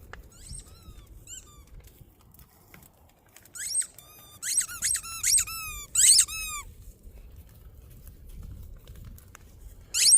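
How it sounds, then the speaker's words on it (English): A squeaky toy ball squeals in a quick run of repeated high squeaks, some scattered and some bunched, close and sharp over faint background rustling. "bought him some more squeaky balls and more toys."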